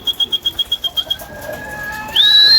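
Pigeons at feeding time near the loft, with a quick series of about ten evenly spaced sharp chirps or flaps followed by sustained cooing and a rising whistle-like call, close and clear.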